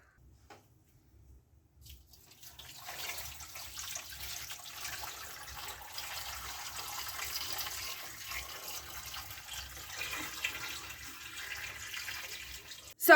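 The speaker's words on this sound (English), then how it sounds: "So fill up with water." Tap water running steadily into a cooking pot for steaming sweet potatoes, starting after a short quiet moment and continuing as a constant hissing splash to the end.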